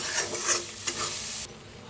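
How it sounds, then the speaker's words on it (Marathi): Oil sizzles steadily as spiced masala paste fries in a pan before pumpkin goes in, a soft continuous crackle with a few stirring scrapes, close and fairly quiet. "बघा मसाला मस्त असा भाजलाय, तेल बी सुटले।"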